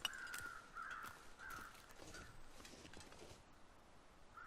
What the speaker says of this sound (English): What are those birds circling?